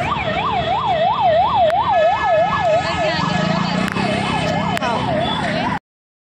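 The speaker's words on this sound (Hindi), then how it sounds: "एम्बुलेंस" An ambulance siren wails loud and close amid a heavy crowd near Agra Fort, its rising-and-falling tone cycling steadily over traffic rumble and background voices until it stops abruptly.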